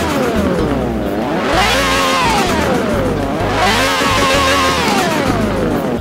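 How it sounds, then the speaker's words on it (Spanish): A modified Mercedes-AMG in Forza Horizon 4 revs loudly and repeatedly, with the engine pitch sweeping up and down in two long rising and falling cycles, close and continuous and with no talking. "escuchen cómo suena este Mercedes"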